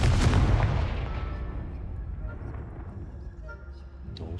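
Confringo fire spell blast in the game Hogwarts Legacy, a loud booming explosive burst up front that decays into a fading rumble over several seconds, with a player's voice present.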